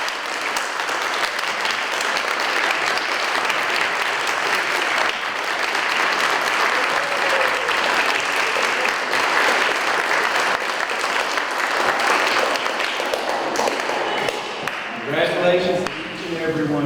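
Audience at a banquet breaks into sustained, dense applause filling the room for about fifteen seconds, with scattered voices rising near the end as the clapping fades.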